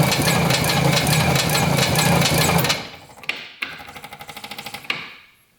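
A tracked all-terrain machine's engine runs loud and steady with a rapid knocking beat, then cuts out and coughs back into short uneven bursts as it is restarted on the electric start with the throttle open.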